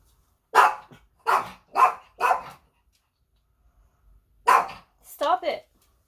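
A dog barks during a storm: four sharp barks in quick succession, a pause, then two more barks, the last trailing into a higher whining yelp, loud and close in an otherwise quiet room.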